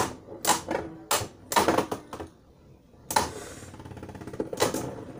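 Beyblade spinning tops launched into a stadium, heard as sharp plastic clacks and rattling collisions in quick bursts, then a pause, then a steadier close whirring clatter as the tops battle.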